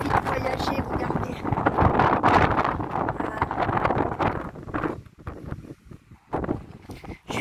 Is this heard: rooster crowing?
no